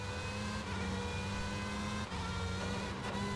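Race car engine at Zandvoort in a racing video game, a steady, loud, close drone with a slight dip around the two-second mark and no talking.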